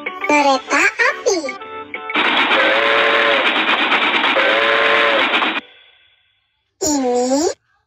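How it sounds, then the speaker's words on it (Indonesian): A loud train rumbles past with a long two-note whistle sounding twice, preceded and followed by a voice speaking. "Ini kereta api."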